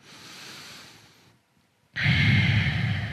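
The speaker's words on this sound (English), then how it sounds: "All right, one more breath here." A deep breath taken while holding a stretch in a lower back mobility routine: a slow, soft exhale, a brief silent pause, then a louder, close rushing breath.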